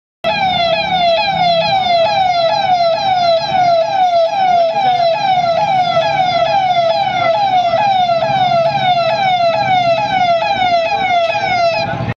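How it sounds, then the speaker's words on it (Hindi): A police siren wails continuously in rapid, repeating up-down sweeps, loud and close, with engine rumble and faint crowd noise underneath. "सायरन बजाती पुलिस की गाड़ी"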